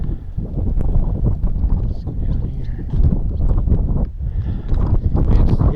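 Strong wind on the Oregon coast at Fort Stevens buffeting the microphone in loud, rumbling gusts, roaring continuously outdoors with faint other sounds underneath.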